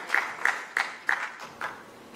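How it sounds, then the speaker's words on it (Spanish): Slow, evenly spaced claps welcome a volunteer at a magic show, about six distinct hand claps at a steady rhythm, fairly faint and alone. "vamos a darle un aplauso, por favor, acá, al participante"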